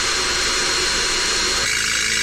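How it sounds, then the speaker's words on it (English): A power drill bores out a hole on a customised truck with a loud, steady whine that changes pitch near the end as the bit works through. "You just drill that out, then put a 6 in there after."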